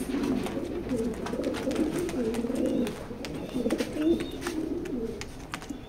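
Racer pigeons coo softly and continuously, several low rounded calls overlapping at close range with faint rustling around them.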